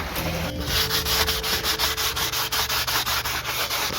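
Scrubbing dirt off a banked corner of a slot car track, a loud rhythmic back-and-forth rubbing scrape repeating quickly and evenly, close up with no voices.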